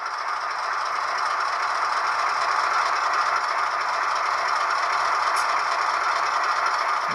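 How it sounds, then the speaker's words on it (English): A Walthers Proto HO scale EMD SW1200 switcher model locomotive with DCC runs at its lowest speed step, giving a steady, close, even whir with a faint light rattle throughout, no talking. "we'll get this locomotive moving at one speed step here."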